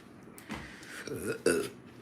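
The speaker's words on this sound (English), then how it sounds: "Excuse me, I just burped." A person burps faintly amid close indoor talk, a short throaty belch rising briefly above the speaking voice.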